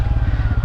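A Bajaj Pulsar N160 motorcycle's 160 cc engine runs in a brief, close burst with an even, rapid pulsing thrum, alone without voices.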